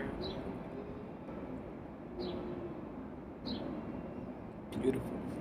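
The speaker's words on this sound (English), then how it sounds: "You hear the birds in the background." Birds call outdoors in New York, with three short chirps spaced about a second and a half apart and thin, distant, and faint over a low hum of city background noise.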